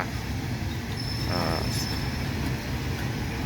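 A train pulls into a station platform, rumbling steadily close by with a constant low roar of wheels on rails and a brief metallic squeal partway through.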